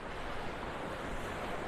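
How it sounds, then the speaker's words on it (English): Ocean surf on a beach in North Naples, Florida washes in as a continuous broadband roar mixed with wind buffeting the microphone, steady and fairly loud, with no voices. "The sound of those waves making you feel good?"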